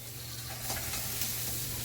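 Tofu goes into a hot pan with other ingredients, giving a steady close sizzle with a low hum beneath and a couple of brief louder bursts as it hits the oil and is stirred.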